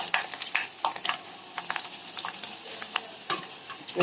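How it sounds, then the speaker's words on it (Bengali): Food fries in hot oil, sizzling and bubbling with soft irregular crackles and occasional stirring clicks, close and fairly quiet, with no talk. "তেলটা গরম হয়ে গেছে সুন্দর করে আমি কি সুন্দর করে ফুটে ফুটে উঠতেছে"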